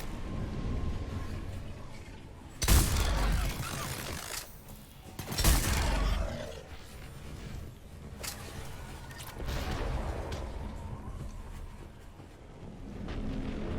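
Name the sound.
gunfire in the video game Mass Effect 3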